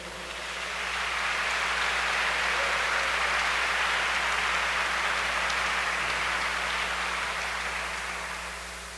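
Church congregation applauding during a Pentecostal service, a steady, dense wash of many hands clapping that rises smoothly, holds evenly for several seconds and then tapers, with no talking over it.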